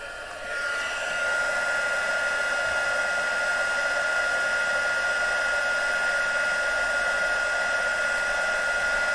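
A craft heat gun blows steadily at close range while melting embossing powder on a tag, a continuous whooshing hum of fan and heater that holds level and loud for the whole stretch with no talk.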